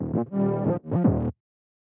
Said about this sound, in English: So especially over here you can hear the subtle bit crush that's turned on.